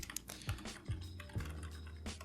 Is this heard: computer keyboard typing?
yes